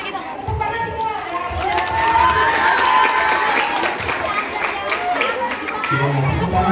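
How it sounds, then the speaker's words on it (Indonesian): A group of children claps at school amid shouting and excited chatter, with a crowd noise that swells in the middle and a voice rising over it. "Tepuk tangan semua."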